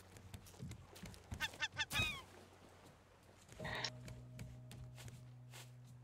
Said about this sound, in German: Da ist ein Vogel.